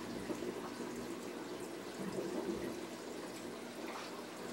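A wet/dry filter and an FX6 canister filter run on a 180-gallon show tank, giving a steady, even rush of trickling, splashing water with no pauses.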